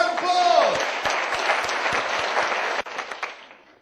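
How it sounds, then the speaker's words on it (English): An audience gives a round of applause at a live show as two volunteers come up, with dense, steady clapping that carries on for several seconds, then thins out and stops. "Give them both a round of applause."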